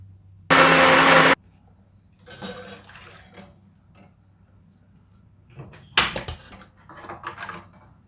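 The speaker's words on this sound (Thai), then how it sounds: "เดี๋ยวเราไปลงมือปั่นน้ำพริกกันก่อนค่ะ" Electric blender whirring loudly for just under a second as it blends chili paste for Thai sour curry, followed by clattering and knocking kitchen sounds and a brief second spin.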